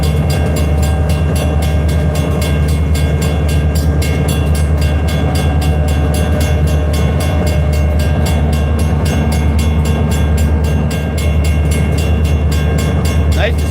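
A freight train led by an old Conrail locomotive rolls past close by with a loud, steady rumble and a regular clickety-clack of wheels on rail joints throughout.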